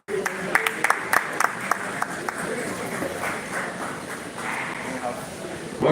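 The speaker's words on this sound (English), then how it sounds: "Please, a round of applause for him again." An audience applauds at a Street 2 champions press conference, scattered sharp claps giving way to a softer sustained patter of clapping over talk.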